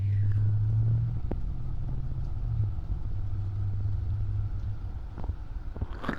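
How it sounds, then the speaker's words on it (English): A loud car passes outside, a steady low engine rumble that swells and holds for several seconds under an indoor recording, then fades slightly toward the end. "Sorry, loud car."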